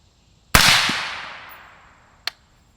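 A single loud, sharp crack from a Guardian Defense Manufacturing GDM556k rifle fired outdoors, ringing off in a long echo. A brief metallic click follows a moment later.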